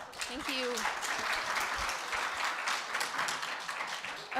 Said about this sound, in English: let's give a quick round of applause for our first lightning speaker